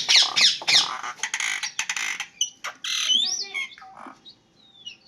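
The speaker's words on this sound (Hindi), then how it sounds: "ये है हमारी मैना जो आप लोगों से कुछ कह रही है।" A pet myna bird squawks close by, a burst of harsh raspy calls followed by scattered chirps, whistles and rougher squawks that thin out toward the end.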